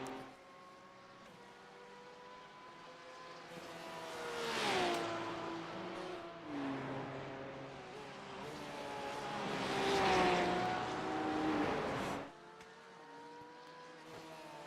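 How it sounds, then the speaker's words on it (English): Race car engines roar and rev in the iRacing video game during the Nürburgring 24 Hour, pitch climbing and dropping through gear shifts, swelling twice to loud peaks before cutting off. "I think the engine sounds in the Cup car is slightly better"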